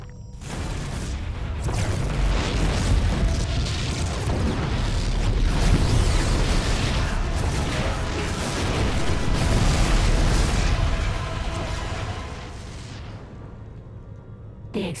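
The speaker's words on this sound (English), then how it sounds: "The explosions have stopped." Continuous rumbling explosions and booming blasts in StarCraft II: Heart of the Swarm, dense and loud for most of the stretch before fading out near the end.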